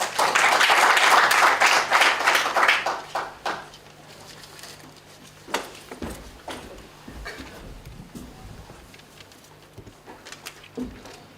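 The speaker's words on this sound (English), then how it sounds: "Let's give him a big round of applause, ladies and gentlemen." Audience applause for a senior programs manager at a launch event, loud dense clapping fading out over the first few seconds, followed by scattered claps and room noise.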